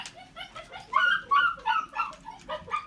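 Four-week-old Pyredoodle puppies whimpering and yipping, a close run of high, thin cries repeating in quick uneven bursts.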